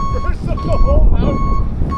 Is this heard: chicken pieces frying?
no